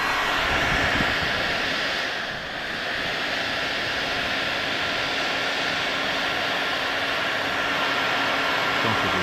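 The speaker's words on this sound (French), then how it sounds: "et mettre plus fort ton décapeur" A steady, loud blowing roar from a Ferm heat gun at its high setting runs continuously, with a brief dip partway through.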